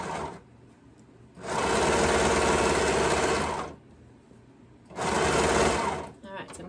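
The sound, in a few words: sewing machine stitching and trimming fabric edge with knife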